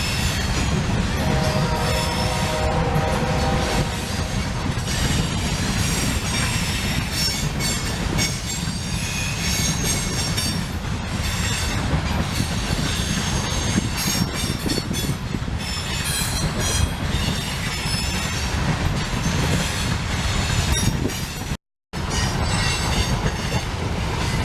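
A loaded coal train rolls steadily past, its wheels squealing and screeching in long, high tones as it crosses over a rail junction, with constant heavy rumble throughout and a brief dropout near the end.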